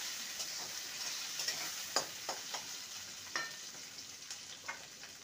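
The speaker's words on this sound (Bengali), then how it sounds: "পেঁয়াজ আর টমেটোকে ভালো করে ভেজে নেব।" Chopped onion and tomato frying in a pan for fish kopta curry, a steady soft sizzle broken by sharp stirring scrapes and taps at irregular intervals, close and moderately loud with no talking.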